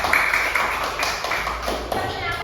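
A classroom of students claps briefly, scattered taps and thuds layered over the voices of a class in session, moderately close and fairly short.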